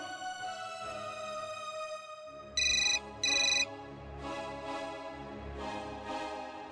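A phone ringtone sounds in a TV drama scene, two short bright ringing bursts close together against a steady background music bed, with no voices over it.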